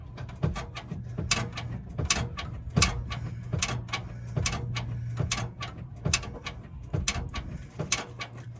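Repeated mechanical clicks and creaks as a car's brake pedal is pumped during a power brake booster and master cylinder replacement, close and moderately loud in a steady rhythm over a low hum.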